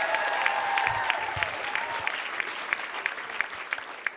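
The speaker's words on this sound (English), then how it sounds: "Thank you for clapping for me." Comedy and magic club audience applauding steadily throughout, a dense even wash of clapping with occasional sharper claps.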